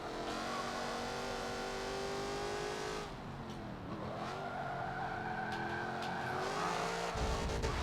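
A race car in Forza Motorsport 7 slides through a corner with sustained tire squeal and skidding over a steady engine drone, then the engine revs back up as grip returns, all loud and close with no talking.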